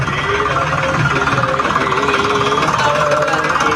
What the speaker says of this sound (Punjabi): ਆ ਦੇਖੋ ਟਰੈਕਟਰ ਸਟਾਰਟ ਨੇ